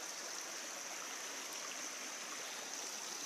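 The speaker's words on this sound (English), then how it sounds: "now we're at this cool little creek." A small creek on an Appalachian Trail mountain section flows in a steady, close, hissing rush with no break and no voices.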